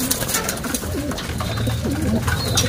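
Pigeons coo repeatedly in low, throaty phrases from close by, steady over an outdoor bird enclosure with light background chirps and no talk.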